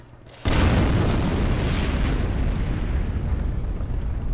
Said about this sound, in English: That explosion sound is strange.